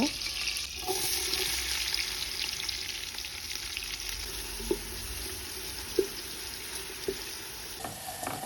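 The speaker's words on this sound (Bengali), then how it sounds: "দেন আমি চুলায় প্যান বসিয়ে এর মধ্যে তেল এবং এক টুকরো বাটার দিয়ে পেঁয়াজগুলোকে ভালো করে ব্রাউন করে ভেজে নেব" Onions browning in oil and a piece of butter in a pan on the stove, a steady soft sizzle with a few clinks of stirring, close and unbroken by talk.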